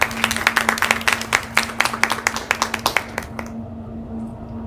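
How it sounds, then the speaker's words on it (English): A room of people gives board members a round of clapping at a school board meeting, with distinct claps rippling steadily for about three seconds before fading into a low background hum. "Let's give our school board members another round of applause."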